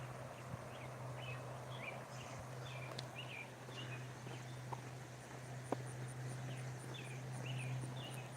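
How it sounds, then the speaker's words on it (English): Along the Holston River at Laurel Run Park, scattered small birds chirp and twitter faintly while an insect buzzes in a thin pulsing trill, all over a low steady hum outdoors. "Can you hear the birds?"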